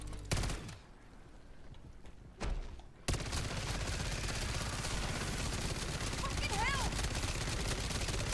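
Gunfire at a zombie boss in MW3 Zombies, a couple of sharp shots followed by a long, loud, continuous burst of rapid fire from several guns, with voices underneath.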